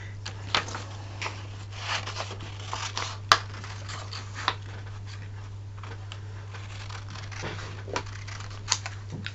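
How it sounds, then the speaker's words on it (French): Scissors snip through paper trading cards close by, a few sharp cuts and rustles scattered over a steady low hum, with no talk. "Alors, je vais découper tout ça. Alors, mes ciseaux."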